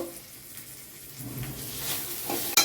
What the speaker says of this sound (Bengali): টমেটো কুচিটাও দিয়ে দিলাম। দিচ্ছি লবণ, হলুদ গুঁড়ো।